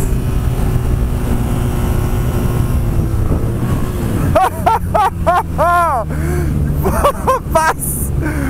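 A BMW R nineT motorcycle roars loudly under wind noise, and its engine rises and falls through repeated rapid revving sweeps as it accelerates hard in second gear toward a wheelie, with a rider speaking over it.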